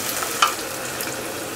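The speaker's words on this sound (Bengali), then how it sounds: "শুটকিটা আমি আগে দিলাম এই জন্য যে পেঁয়াজ রসুনের সাথে শুটকিটাও একটু ভাজা হয়ে যাবে।" Dried coral fish frying in a pan with onion and garlic, a soft steady sizzle with one sharp stir or scrape near the start, alone and fairly quiet.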